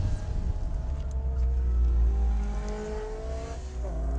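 Turbo Mazda Miata drifting, its engine revving up and down with rising and falling tones, a deep rumbling exhaust and faint tire noise, close and fairly loud with no talking.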